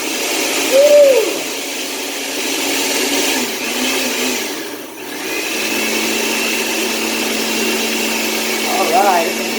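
Kitchen blender whirring steadily as it purees basil, garlic, pine nuts, olive oil and cannabis into pesto, a continuous motor drone holding through the clip with a brief dip midway, and a short whoop over the top.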